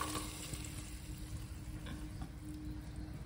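Spatula scraping and stirring egg curry in a pan over a low steady sizzle, continuous and close, with scattered clinks of metal against the pot in a rural kitchen.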